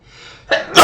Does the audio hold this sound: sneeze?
yes